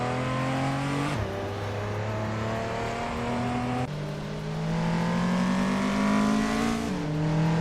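Several race cars in a racing video game duel for position, engines droning loud and steady with rising and falling pitch as they shift gears, continuous close engine roar throughout.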